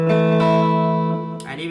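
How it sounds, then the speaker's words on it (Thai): An electric guitar played through a live amp with its pickup split to single coil for a bright tone; a single sustained note rings close and loud, then fades before a fresh pick attack. "อันนี้เป็นเสียงตัดซิงเกิลคอยตัวนี้นะครับ เสียงจะออกใสๆ"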